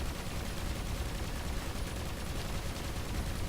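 Rapid ship weapons fire from a space battle in Avorion, a dense continuous rattle of shots held at a steady, moderate level throughout.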